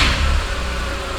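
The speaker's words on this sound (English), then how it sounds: "key in the ignition, turn it on" A 1.8T car engine running close by right after being started, a steady loud mid-pitched rumble with a brief rise at the start, no voices.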